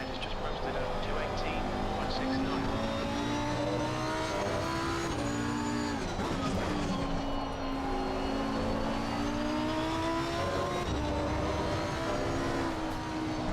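Race car engine in a racing video game lapping Spa Francorchamps, a loud continuous engine drone rising and falling through the gears across the whole stretch, with someone talking over it.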